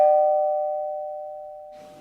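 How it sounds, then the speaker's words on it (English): A doorbell chime rings once, a clear tone slowly fading over two seconds before a brief rustle. "then I heard my doorbell ring"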